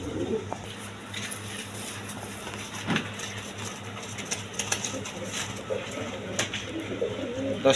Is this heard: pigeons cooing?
yes